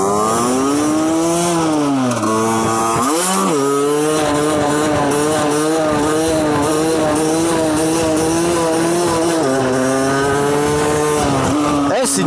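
A motorcycle engine revs hard as the rider lifts into a wheelie on an uphill climb, loud and close, pitch rising and dropping with throttle changes before holding a sustained high drone.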